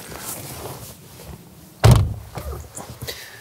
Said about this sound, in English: Let's pull back the frameless door and take a look inside.